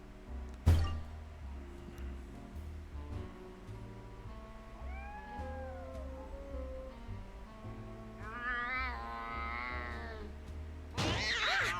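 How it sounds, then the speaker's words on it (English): A feral cat meows in the Nancy Drew game Lights, Camera, Curses!, a thump opening the clip, then several drawn-out, wavering meows rising into a louder caterwaul over a low game hum, ending with a sudden burst of noise. "Feral cat over here. Feral cat on the loose."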